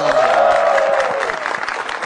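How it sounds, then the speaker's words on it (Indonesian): Audience applause at a televised stand-up comedy show in Indonesia, a dense steady wash of clapping from a crowd that fades slightly toward the end, with a host's voice and music over it at the start. "tepuk tangan yang meriah buat Panca Atis dong"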